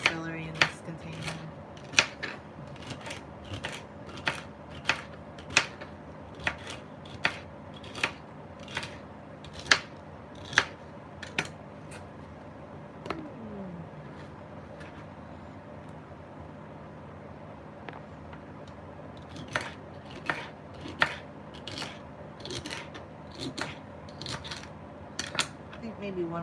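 A knife slices through celery stalks onto a cutting board in sharp, evenly spaced crisp cuts, close and clear, with a pause midway and a person talking at times.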